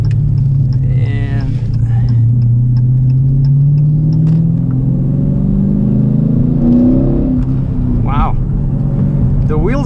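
A 2018 Dodge Challenger 392 with a modified engine computer revs loudly and steadily as its wheels spin, a strong, close engine drone that rises gradually in pitch with brief higher whines layered on top.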